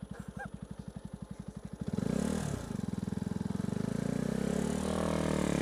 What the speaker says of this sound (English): That wheel is spinning.